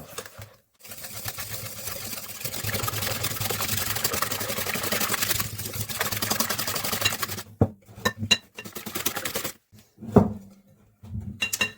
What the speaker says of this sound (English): you're just combining and whipping up the sugar, eggs, and yogurt to this beautiful light yellow texture